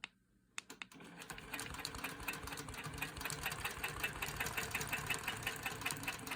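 A longarm quilting machine free-motion stitches a vintage quilt top, a steady fast mechanical whirring with rapid needle clatter that starts after a few faint clicks and runs loud and continuous to the end, with no talking.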